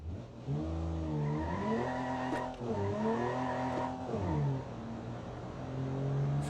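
Engine of a 1978 H 1500 car in BeamNG Drive revving hard and climbing through second gear, the pitch sweeping up and down in strong harmonic waves, loud and continuous with brief shifts around the middle.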